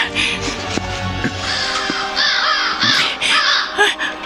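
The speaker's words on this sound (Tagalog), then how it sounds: "Ang malaking uwak. Para nagpipilit pumasok sa nakasarang bintanang salamin." A large crow caws repeatedly at a closed glass window, harsh calls coming in close bursts over a steady background hum.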